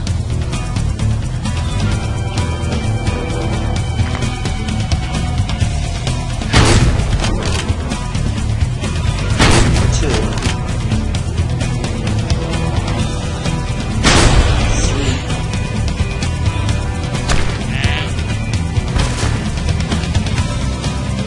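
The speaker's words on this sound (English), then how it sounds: "I'm gonna use the shotgun." Shotgun blasts in the mobile hunting game Deer Hunter 2014, three loud, sharp booms spaced several seconds apart over a steady outdoor ambience.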